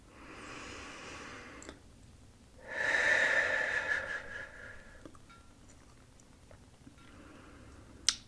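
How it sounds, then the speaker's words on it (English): Slow, deep breathing in and out during a guided relaxation, with soft airy inhales and exhales alternating several times, the longest breath in the middle, quiet and close. "let's start by taking a deep breath in and out"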